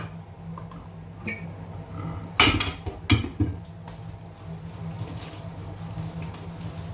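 Clinking and scraping of a patterned porcelain saucer and other dishes being washed, a few sharp clattering knocks standing out over low background hum, then quieter soft rubbing.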